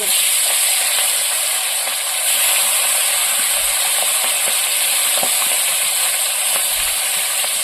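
Steady hissing sizzle of snakehead (shol) fish frying in hot oil, a continuous bright crackle with occasional small pops, no voices.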